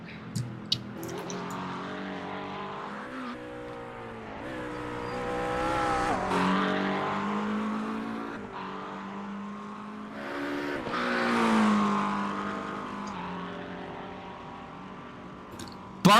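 Race cars in the iRacing video game at Imola scream past with rising and falling engine pitch. Two loud passes surge and fade amid brief tyre squeals, with no commentary over them.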